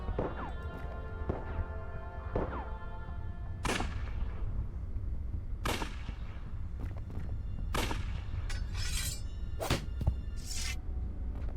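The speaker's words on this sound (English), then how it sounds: "You can stop shooting, Detective Santina." Repeated gunfire in the Unavowed adventure game, about half a dozen sharp shots spaced irregularly over a steady low drone and sustained musical tones.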